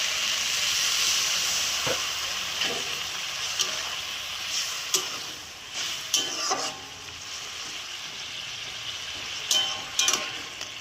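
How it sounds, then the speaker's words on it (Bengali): Curry with a little water added in a hot pan simmers with a steady steamy hiss and sizzle, broken by brief stirring clicks and scrapes; no voices. "এর মধ্যে শুধু আমি হালকা একটু জল দেব, বেশি না, একদম হালকা"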